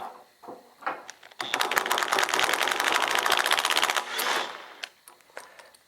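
Rapid rattling bursts of a tool, likely an impact wrench, driving a puller to walk a carrier bearing off a Chevy C10 driveshaft, a loud sustained chatter of about two and a half seconds with shorter bursts before and after.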